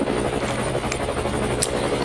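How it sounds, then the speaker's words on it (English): A helicopter looms overhead during 1980s South African marches and protests, a steady, loud rotor drone filling the whole stretch without pause and with no voices. "That helicopter, it's amazing."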